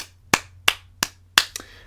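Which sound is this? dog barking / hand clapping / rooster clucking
hand clapping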